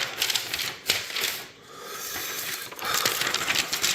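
A scrap sheet of paper is fed into a Royal 10 typewriter, giving a continuous rustling and rubbing with a short pause partway through, close and fairly loud, with no talking.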